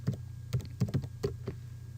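Typing on a computer keyboard: about seven distinct, close keystrokes in an uneven quick rhythm over two seconds, with quiet background hum and no voices.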